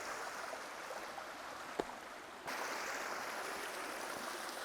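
Creek water rushes steadily past a small waterfall, a broad continuous wash close to the mic, with one brief knock partway through before the flow grows slightly louder.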